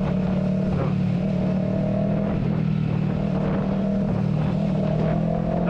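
A car engine pulls steadily under throttle, a continuous near drone with a low hum and a slight rise in revs, carrying on with no talk over it.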